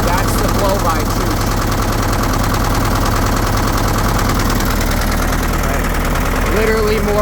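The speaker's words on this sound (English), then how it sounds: "That is a cold start. This thing hasn't been started since I parked it here a couple weeks ago. It fires right up." Case 580B backhoe with a G188 diesel engine idling just after a cold start, worn with heavy blow-by; a steady, loud, continuous rumbling idle with knocking texture fills the whole stretch, with no speech over it.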